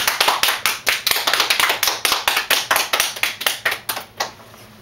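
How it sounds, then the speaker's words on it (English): A small group claps, close by, with distinct individual claps in a fairly steady patter that tapers off at the end. "let's give her a round of applause."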